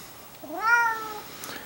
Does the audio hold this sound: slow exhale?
no